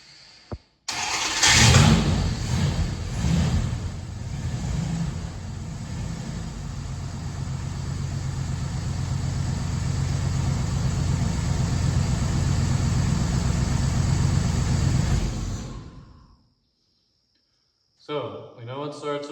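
A 1938 Dodge coupe engine in a garage cranks briefly, then catches and runs steadily for about fifteen seconds at a loud, even idle before shutting off, with a few faint sounds after it stops.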